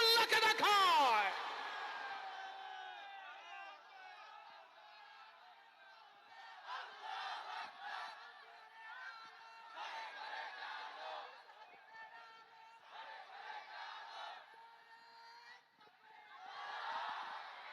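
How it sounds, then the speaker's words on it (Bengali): A crowd at a performance in Shibganj, Chapainawabganj, chants the takbir 'Allahu Akbar' in rhythmic swells of massed voices after a loud opening cry, moderately distant and reverberant. "তাদের কণ্ঠে স্লোগান ঝংকৃত হয় আমার আল্লাহর নামে, আল্লাহু আকবার"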